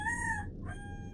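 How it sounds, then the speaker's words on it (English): A rooster crows in the video game Squad, a loud, close cock-a-doodle-doo in two sustained tonal phrases with a brief break between them, heard alone with no talk. "I just heard your chicken."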